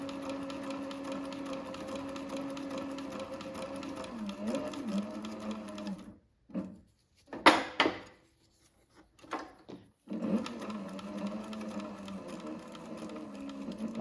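A Cobra 26 leather sewing machine stitches with a steady, close mechanical whir, stops in the middle with a few louder clunks and handling sounds, then resumes its even running.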